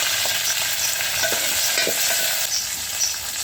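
Curry leaves sizzle and crackle in hot oil on a wood-fired chulha, with occasional stirring scrapes under a steady loud frying hiss and no talking.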